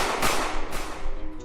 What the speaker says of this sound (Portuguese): Crowley sacou sua arma e deu uma descarga de tiros no policial.